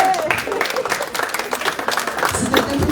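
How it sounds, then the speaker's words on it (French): A church congregation at an evening celebration claps and cheers for the brothers, a dense, steady wash of applause with voices mixed in throughout. "un bon applaudissement pour les frères"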